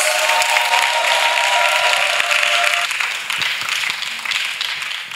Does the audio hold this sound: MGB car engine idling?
no